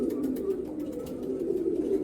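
Pigeons in a backyard breeding flock, including Golden Ice birds, coo steadily at close range, a continuous low murmuring throughout.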